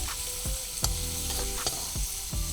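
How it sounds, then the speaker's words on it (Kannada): Onions frying in a pan on a cookery show, a continuous close sizzle with repeated scraping strokes of a spatula stirring roughly every half second, no talking. "ಈಗ ಈರುಳ್ಳಿ ಹಾಕ್ತಾ ಇದ್ದೀನಿ. ಸ್ವಲ್ಪ ಫ್ರೈ ಮಾಡಿ."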